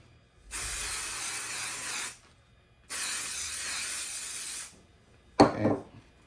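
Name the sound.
adhesive spray being applied for applique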